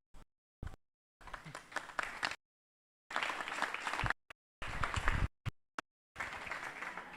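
Applause for student teams at an online inauguration event, several separate bursts of clapping broken by abrupt silences, some short and some lasting about a second, at fairly low level.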